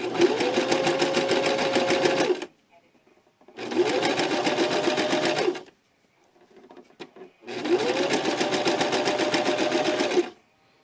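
A sewing machine stitches a cosplay dress in three loud, close bursts of rapid steady whirring, each about two seconds long, separated by short quiet pauses with faint handling noises.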